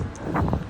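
Strong wind on the coast at Kep, Cambodia, buffets the microphone with a loud, rumbling rush in a brief burst, with no speech.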